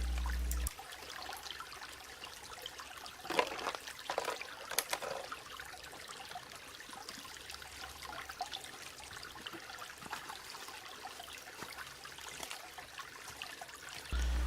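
Water trickles and splashes from a dipping scoop into a backpacking water bag beside a shallow outdoor source, quiet and close, with a few brighter pours amid soft background hiss.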